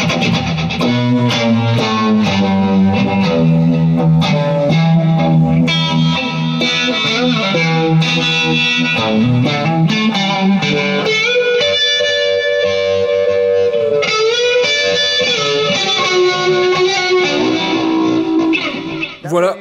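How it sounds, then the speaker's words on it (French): Electric guitar run through a Univibe-style modulation effect on a HeadRush pedalboard, driven toward a dirtier tone, playing a continuous, dense and loud phrase with swirling, pulsing chords and notes throughout. "Voilà, c'est le son d'une Univibe"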